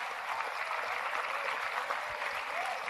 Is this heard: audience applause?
yes